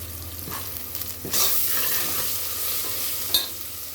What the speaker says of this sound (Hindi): प्याज को गोल्डन फ्राई करें तो नहीं सालन में ग्रेवी अच्छी टेस्टी बनती, इसलिए मैं गोल्डन होकर तक फ्राई करती